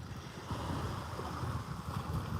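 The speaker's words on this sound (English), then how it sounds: "just the sound of the ocean, lapping, just like this" Ocean waves lap gently at a beach in Bali, a soft continuous wash of water with faint wind noise, steady and unbroken over a short stretch with no voices.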